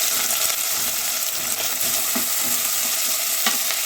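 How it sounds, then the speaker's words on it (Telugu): Onions hit hot frying masala in a pan for a mutton curry and sizzle loudly, with a steady close crackle and a few stirring scrapes. "ఇప్పుడు అవి వేగిపోయాయి కదా, ఆనియన్ వేసేయండి."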